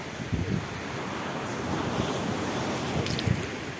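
Rough sea surf rolls onto a beach in a constant roaring wash, with wind buffeting the microphone and heavier wave surges breaking through; no one speaks.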